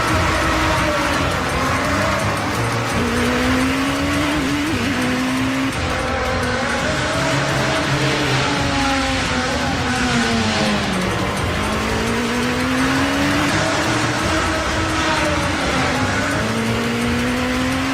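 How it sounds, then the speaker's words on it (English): Loud racing cars roar continuously at close range, engines revving and shifting pitch as they pass, with tire squeal mixed into a dense, unbroken wash of motor noise and no talk. "How loud those cars are"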